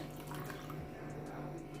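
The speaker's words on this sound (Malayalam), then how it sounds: "ഇതിലേക്ക് ഒരു കാൽ കപ്പ് കൂടി വെള്ളം ചേർത്ത് കൊടുക്കുന്നുണ്ട്" About a quarter cup of water is poured into a pot of Malabar-style Kozhikode fish curry, a faint, soft liquid trickle over a low steady hum.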